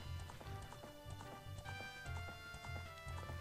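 Epona the horse gallops in Zelda Ocarina of Time, quick rhythmic hoofbeats in a steady clip-clop over game music, fairly quiet.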